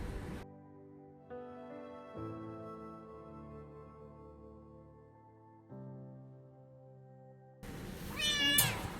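A sick baby kitten gives a short, high meow near the end, after a stretch of soft, quiet background music.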